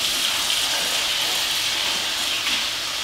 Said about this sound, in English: Rinse that off and start working this again.